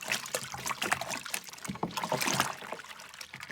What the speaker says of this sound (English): there's plenty of mixing involved